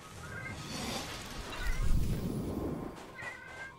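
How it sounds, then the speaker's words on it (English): A house cat meows several times, with drawn-out calls near the start and again at the end, over faint room noise. "the cat has to have his say."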